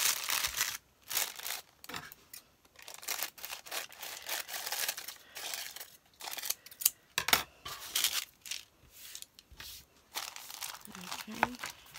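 Paper is trimmed and handled while assembling a handmade junk journal signature, with repeated crisp snips, rustles and crinkles in short bursts, close and fairly quiet.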